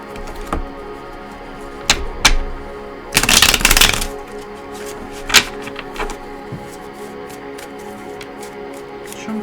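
Tarot cards are riffled and shuffled nearby, with scattered soft taps and a longer flurry of flicking cards partway through, no talking.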